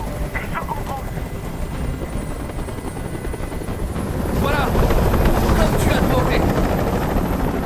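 A helicopter's rotor thumps and whirs steadily in the video game Detroit: Become Human, growing louder partway through, with faint voices and scattered effects mixed in.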